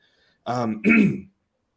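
A sick presenter at a crypto tax masterclass clears the throat twice in quick succession, close and clear against silence.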